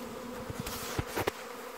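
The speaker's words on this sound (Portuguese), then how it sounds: "Que lindo enxame que vem ali do lado nascente. Ele está a vir e todo ali para dentro daquela colmeia." A honeybee swarm arriving at a hive, heard as a steady, fairly quiet buzzing hum of many bees that carries through the whole short stretch, with a few brief louder passes of individual bees close by.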